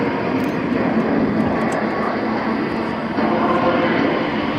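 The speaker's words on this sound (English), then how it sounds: "So the L-29's momentarily breaking, but here they come again in from the left-hand side" An Aero L-29 Delfin jet trainer flying past during a commando assault display at Yeovilton Air Day 2013, a loud continuous engine roar filling the scene while a commentator talks over it.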